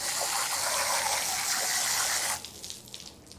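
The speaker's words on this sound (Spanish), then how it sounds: "esta parte de aquí la puedes lavar con agua, así tal cual" Water gushing and rinsing over a removable part of a Karcher FC5 cordless floor cleaner, a steady loud splashing stream that cuts off abruptly, leaving faint drips.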